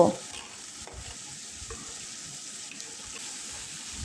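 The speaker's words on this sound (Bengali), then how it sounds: "মশলার সঙ্গে আবারও মাছগুলো দু থেকে তিন মিনিট ভেজে নেব" Small mourala fish fry with spices and tomatoes in a pan, giving a steady, close hiss and sizzle with a few light stirring clicks and no talking.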